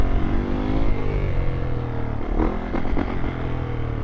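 Yamaha YZ450F dirt bike riding through a turn, a loud, close engine roar with steady throttle and slight revving over wind and riding noise, no talking.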